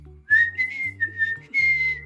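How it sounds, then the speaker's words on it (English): A woman whistles a plain, regular whistle: three clear sustained notes with brief gaps between them, loud and close, with no talking. "So I can do a regular whistle"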